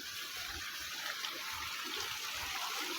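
A river in Tanzania flows steadily and close by, a continuous broad hiss of rushing water with no voices over it.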